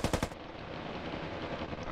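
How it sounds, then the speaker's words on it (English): A brief, sharp burst of full-auto gunfire in the combat game Ravenfield, a few rapid cracks in quick succession, then a low lingering rumble and faint ambient noise. "That's a full auto."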